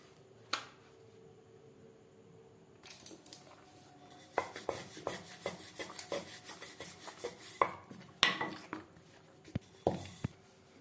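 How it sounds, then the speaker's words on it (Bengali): A rolling pin works floured dough thin for homemade chicken patties, making soft repeated rubbing and knocking strokes on a board at a steady back-and-forth rhythm, close and fairly quiet. "এবার ময়দা দিয়ে ঠিক এরকম পাতলা করে বেলে নিতে হবে।"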